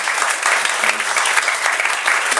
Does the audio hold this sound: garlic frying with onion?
no